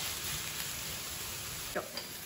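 Vegetables and soy curls sizzle in a pan during a vegan stir fry, a steady broadband hiss running throughout, with a brief stir or clatter near the end.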